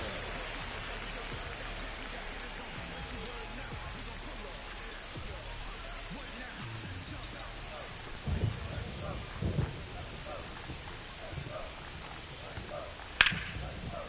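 Rain falling outside with rolling thunder, a steady low hiss throughout, thunder rumbling in the middle and a sharp crack near the end, while someone commentates a baseball video game over it.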